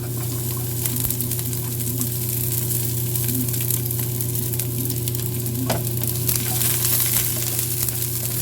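Garlic sizzles steadily in a hot pan for chicken curry while being stirred, a constant loud frying crackle with occasional scraping of the spoon, no voices.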